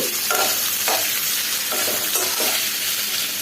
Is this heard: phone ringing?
no